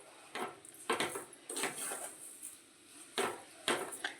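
A spoon scraping and clanking against a pan in irregular bursts as mango sheera, a semolina sweet, is stirred with sugar, close and fairly quiet with no talk.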